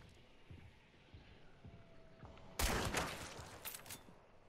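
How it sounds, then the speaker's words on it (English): A single gunshot in the game Hunt: Showdown, a sharp loud crack that rings out over quiet ambient background and muffled low thumps, then trails off in a fading tail. "I just shot a hive"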